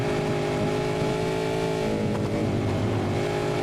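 A V8 Supercar engine in a sim racing game at the Circuit of the Americas, droning steadily and loud as the car rolls through a corner, with a brief dip and gear change partway through and no talk.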